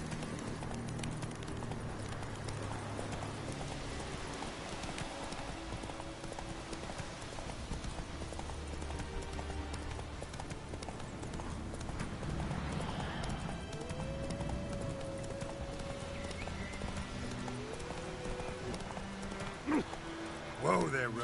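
Roach, the horse in The Witcher 3: Wild Hunt, gallops with continuous rhythmic hoofbeats over a long stretch, mixed with in-game music and ambience and an occasional snort or whinny near the end.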